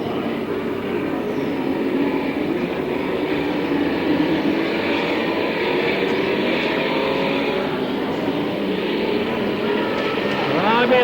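6-cylinder modified race cars roar around a speedway in a continuous engine drone, loud and sustained as the pack passes.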